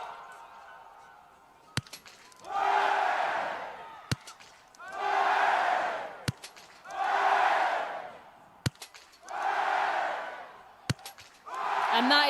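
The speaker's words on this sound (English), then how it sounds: "the hit rewarded with flags, noise, cheers" At a men's 10 km biathlon sprint in Annecy, France, each sharp rifle crack at the range is followed by a loud swell of crowd cheering, repeating about five times in a steady shot-then-roar rhythm.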